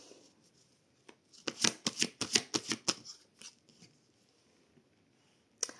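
Oracle cards are drawn and shuffled by hand, giving a quick run of about ten crisp riffling slaps, then a few softer scattered card taps in a quiet room, with no talking.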